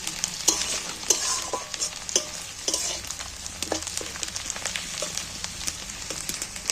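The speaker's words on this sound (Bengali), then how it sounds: "এইবার আমি কাঁচা লঙ্কা কুচোনাগুলো তুলে দিন যাতে কাঁচা লঙ্কাগুলো একটু ভালো ভাজা হয়ে যায় মশলার সাথে" Chopped green chillies fry with spices in a pan, a close, steady sizzle punctuated by repeated sharp scrapes and clicks of stirring, with no voices.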